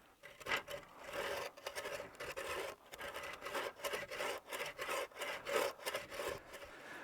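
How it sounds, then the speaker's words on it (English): A hand saw cuts repeatedly into the wooden grip of a Roman sudis, rasping back-and-forth strokes in uneven bursts with short pauses between them, close up and fairly quiet. "I have made lots of cuts to the depth of the saw blade, all along where I'm going to have the grip."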